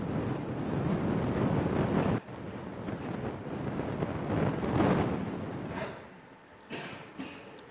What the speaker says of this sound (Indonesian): fenomena langka hujan es disertai angin kencang